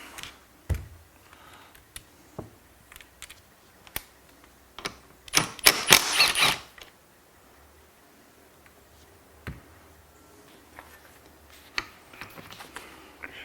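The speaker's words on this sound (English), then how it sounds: "We do need to remove this bolt too. 12 mil." A 12 mm bolt is worked loose from a Honda S2000 passenger seat rail with a ratchet, giving sparse clicks and taps, then a dense burst of rapid ratcheting in the middle, with scattered clicks afterward.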